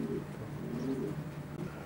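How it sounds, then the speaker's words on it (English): A racing pigeon coos steadily in a loft, low murmuring calls running continuously and fairly close, with no talk. "Beautiful pigeon again, isn't it?"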